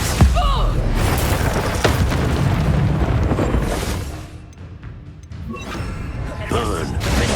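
Confringo blasting spell explosions and crashing impacts in the video game Hogwarts Legacy, loud booms and debris clatter over game voices, quieting briefly before another burst.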